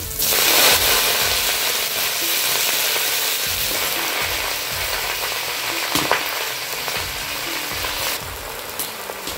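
Bottle gourd leaves fry in mustard oil with green chillies, bay leaf and five-spice, giving a loud, close sizzle and crackle with rhythmic stirring scrapes throughout.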